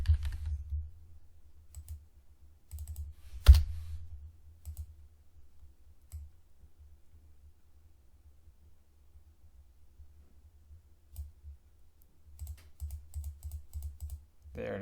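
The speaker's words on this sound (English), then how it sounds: "I'm typing it in and it's not showing up" Typing on a computer keyboard: scattered bursts of soft clicking keystrokes with long pauses between them, close but quiet, plus one sharper tap.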